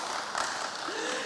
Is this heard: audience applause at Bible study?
yes